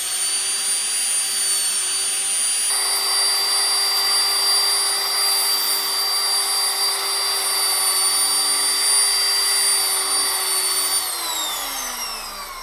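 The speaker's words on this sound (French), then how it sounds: "Là ici on va poncer un peu plus." A power sander works steadily along the edge of a handmade wooden boom, giving a continuous high whine with a strong hum underneath. The motor runs evenly for the whole stretch, then its pitch drops slightly near the end.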